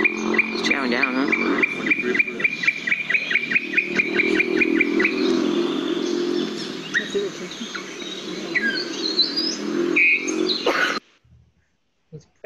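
Tropical birds call in Costa Rica, a motmot among them, with rapid repeated chirps and trills over a constant buzzing backdrop of insects and frogs. The chorus stays loud and steady for about eleven seconds, then cuts off abruptly.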